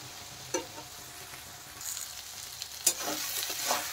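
Kochur loti (taro stolons) being stirred with coconut paste in a frying pan, with a soft steady sizzle and a few scraping spoon strokes in a quiet kitchen.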